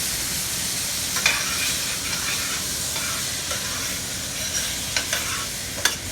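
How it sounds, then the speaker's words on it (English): Steady loud sizzling and hissing of potatoes frying in a pan, with a few faint clinks and scrapes over the constant crackle. "So this one here, a nice sizzle here."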